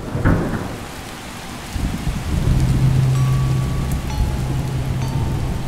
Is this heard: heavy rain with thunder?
yes